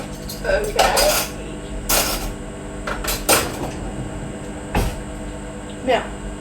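Dishes and cutlery clatter at a kitchen sink as plates and utensils are set down and moved, a series of loud, irregular clinks and knocks with brief pauses between them.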